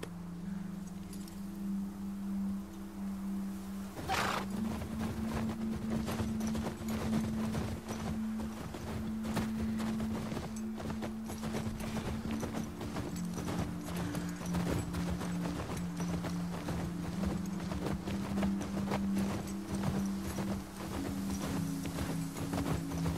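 A small horse's hooves clop in a steady walking rhythm in The Last of Us Part II, close and continuous over a low droning game ambience, with a sharp impact near the start and no speech.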